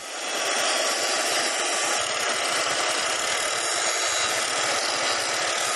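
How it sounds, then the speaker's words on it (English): Abrasive grinding on a one-inch-thick solid steel differential, a steady, loud, harsh continuous rasp close by that holds unbroken for the full stretch with no talk. "I'm gonna spend a whole day grinding this thing smooth. It's 1-inch thick solid steel."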